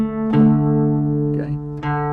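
An electric guitar plays a short lick from a rock song, a couple of ringing sustained notes with a fresh pick attack partway through, close and clear, with no talking.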